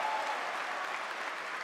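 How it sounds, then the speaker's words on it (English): An event crowd at Gamescom applauds and cheers in a steady, sustained wash of clapping and crowd noise, loud and continuous across the whole stretch. "You hear the crowd?"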